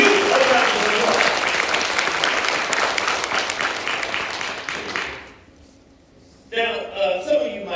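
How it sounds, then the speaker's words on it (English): An audience at a live evening event breaks into a dense, loud round of applause that carries steadily for about five seconds, then cuts out before a short burst of clapping returns. "Let's give them a round of applause."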